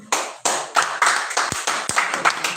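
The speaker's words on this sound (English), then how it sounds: "Please give us a round of applause now." Hand clapping at a live youth development institute event in Lagos: a run of sharp, separate claps in loose rhythm, close and fairly loud, with little other sound.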